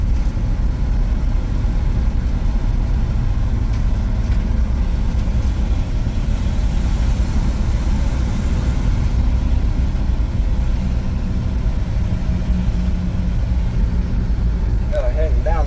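A 1969 Chevy C50 fire truck engine drones loud and steady from inside the cab while driving in four low, a constant low rumble with no break.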